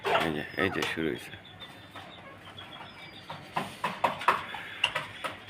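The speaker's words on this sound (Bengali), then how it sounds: "এটা আমার একটা ইউনিক মোরগ" Chickens and a rooster on a small home farm, with clucks and calls coming in a quick run of sharp bursts, nearby and moderately loud, along with a voice talking at the start.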